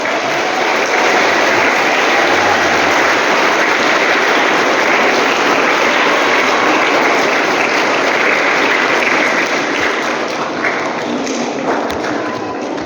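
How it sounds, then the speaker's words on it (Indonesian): Sustained applause for the teachers at a school gathering, a dense, loud wash of many hands clapping together that holds evenly for the whole stretch and eases slightly near the end. "Dan jangan lupa juga tepuk tangan untuk Bapak Ibu guru."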